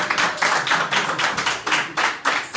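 A small group claps for an expected baby, several distinct rhythmic bursts of hand claps close by and fairly loud, with no talking.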